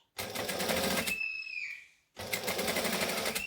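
A sewing machine stitches a dress lining seam at the armhole in two steady rapid bursts, close and loud, separated by a short pause with a faint squeaky tone.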